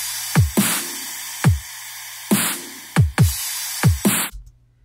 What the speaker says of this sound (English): at the very beginning I use this crash sample